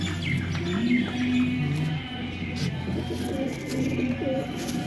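Feathered-foot pigeons, black-tailed males with black nails on red feet, cooing softly in a loft amid faint chirps and low background hum, with a short tonal call repeating several times.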